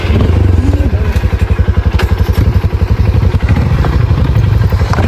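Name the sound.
motorcycle being ridden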